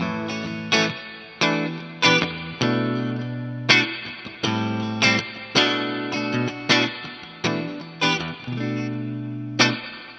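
Electric guitar chords ring out heavily distorted through a Holy Grail spring reverb set about halfway, a washy, splashy reverb tail trailing each strum; steady rhythmic playing, loud and alone.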